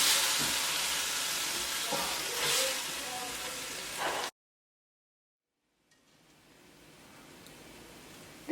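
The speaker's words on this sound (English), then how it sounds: "The tomatoes have been cooking for about 3 minutes now." Tomatoes cook in a pan for a cabbage egusi soup, giving a steady broadband sizzle and hiss that cuts out abruptly to silence, then returns more faintly.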